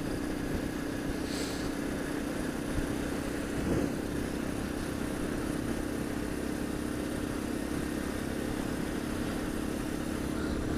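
A small motorbike engine runs steadily through a muddy woodland ride, a continuous droning hum with slight throttle variations and no voices over it.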